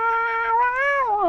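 A person's voice imitates a cat meowing, a single drawn-out, wavering meow held close and loud, set in a survival game of vanilla Minecraft on PS4.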